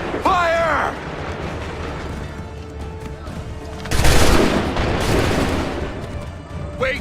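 A musket volley in the video game Assassin's Creed 3 bursts out loud and near, a heavy booming blast with a long rumbling tail, set among shouted commands.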